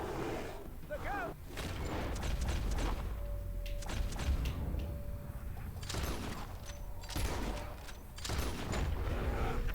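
Gunfire from the Western video game Red Dead Redemption 2, a string of sharp bursts and booming shots spread across the scene, mixed with game effects and a steady tone, with voices shouting over it.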